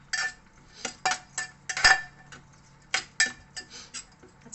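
Pop rice being stirred with a little lemon juice in a bowl, a run of irregular clinks and scrapes of a spoon against the bowl, close and alone.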